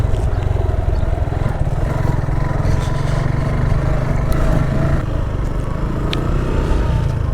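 A motorcycle is ridden by the Balu river, its engine droning loud and steady close by with constant rumble and wind.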